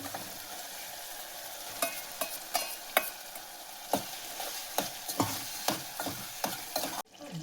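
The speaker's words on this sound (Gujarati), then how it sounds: "હવે નાખી દઈએ આપણે રીંગણા." Brinjal sizzling and frying in a pan for ringan no olo, a steady close sizzle with repeated scraping stirs and clinks of the spoon against the pan, no talk.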